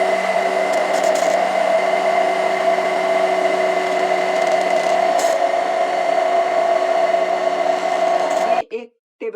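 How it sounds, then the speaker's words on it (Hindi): A hand blender runs steadily while blending milk and oil as the oil goes in little by little, a loud constant whine that stops abruptly near the end. "इसमें पूरा ऑयल थोड़ा थोड़ा इस तरह करते जाएंगे और ब्लेंडर चलाते जाएंगे।"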